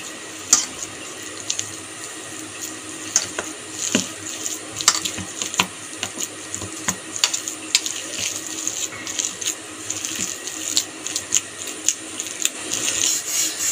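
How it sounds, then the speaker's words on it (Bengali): Ginger rubs against a metal grater in quick, uneven rasping strokes, close and fairly loud over a faint background hiss. No one talks. "আদাটাকে গ্রেটারে গ্রেট করে নেব।"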